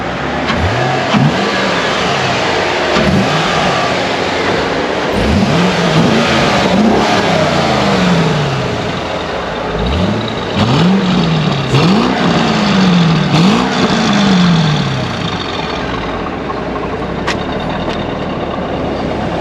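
A 50th Anniversary Corvette with its original exhaust revs repeatedly, the engine note rising and falling in several strong pulls, loud and close throughout with no talking.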